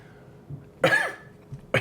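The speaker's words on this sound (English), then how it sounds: "That one actually made me cough." A single sharp, close cough bursts out after a quiet moment, brought on by sipping high-proof bourbon, followed by a brief second hacking sound at the very end.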